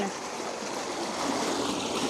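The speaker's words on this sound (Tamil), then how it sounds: "அப்படியே பாருங்க இஞ்சால தண்ணி எப்படி பாஞ்சு கொண்டு இருக்கு அதான் குப்பு குப்பண்டு பாயுது சத்தத்தை பார்த்தீங்களே" Water flowing through an irrigation channel toward a paddy field in a village, a steady close rushing and gurgling that fills the whole stretch evenly.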